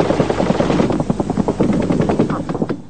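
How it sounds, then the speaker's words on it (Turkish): Cobra attack helicopters and Sikorsky troop-carrying helicopters in a military operation give a loud, close, rapid rotor thump, a dense rhythmic chopping pulse that holds steady throughout with no talking. "Vadiye asker indiren Skorskileri, Kobra helikopterleri koruyor."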